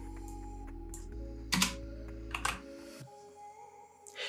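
Typing on a computer keyboard, a few scattered clicks and taps close up over a low steady hum, with one louder burst of keystrokes in the middle.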